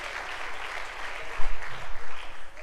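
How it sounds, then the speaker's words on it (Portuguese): Church congregation applauding in praise during a sermon, a steady broad wash of clapping filling the space, with a few louder swells near the end and no talking. "Você pode aplaudir ao Senhor?"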